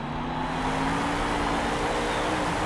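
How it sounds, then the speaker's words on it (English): A monster truck engine in the Monster Jam Steel Titans 2 video game gives a continuous, loud, steady droning rumble that stays even throughout with no voices. "Looks like the truck is ready to go, polished up, looking mean."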